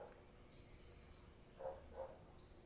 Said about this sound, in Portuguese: Vai apitar agora para iniciar o cronômetro